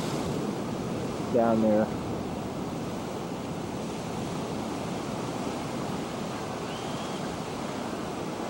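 Ocean waves and surf at high tide below coastal cliffs, a constant broad wash of breaking water mixed with wind noise, with a brief spoken voice.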